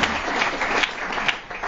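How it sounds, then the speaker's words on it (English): Brief, moderately loud applause from a conference audience, a dense patter of many hands clapping with no voices over it. "Let's give Steve a round of applause"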